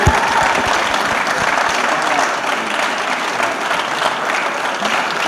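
Sustained audience applause fills a large hall at the Lagos Employment Summit in 2022, a dense, steady wash of many hands clapping loudly without pause, with faint voices mixed underneath.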